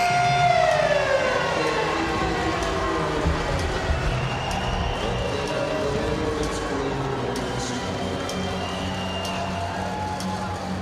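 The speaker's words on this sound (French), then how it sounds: "Et la sirène finale du match d'aujourd'hui." A loud final siren sounds at the end of an ice hockey game over a noisy arena crowd, its tone sliding down then holding steady while the crowd roars on.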